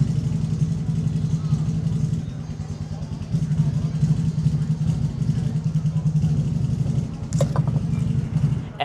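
A car engine runs steadily close by throughout, with a low idling drone and faint revving swells, and a short clatter near the end.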